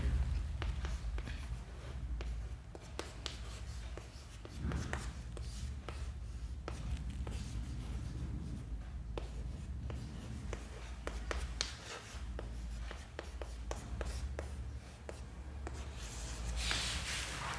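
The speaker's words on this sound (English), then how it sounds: "I will write down the values here." Pen on paper during a maths lesson, steady close scratching strokes with short pauses, continuing for a long stretch with no talking.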